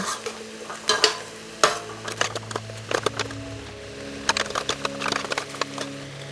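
Garlic cooking in a pan for chile con carne, with a soft sizzle under irregular scraping and stirring clatters from a utensil against the pan, close and moderately loud.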